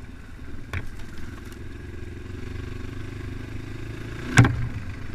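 A Progasi Gaudi 300 scooter engine running steadily at a low, even rumble, with a couple of sharp clicks or clatters, one of them louder toward the end.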